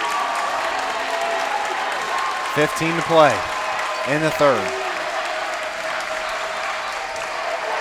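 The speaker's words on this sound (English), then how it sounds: "Westfield's crowd comes to its feet." A high school girls' basketball crowd at a sectional championship game keeps up a continuous roar of cheering and applause, with a commentator talking over it.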